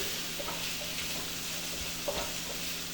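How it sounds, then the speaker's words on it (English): Shallots and vegetables being stirred in melted butter in a pot for lobster bisque, giving a steady soft sizzle with faint scraping stirs throughout, and no one speaking. "We're going to give that a stir to coat the veggies with the butter"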